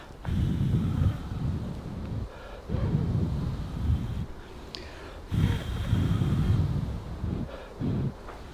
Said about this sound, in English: the 150 Hz bass cut will take away that nasty thumping noise of the wind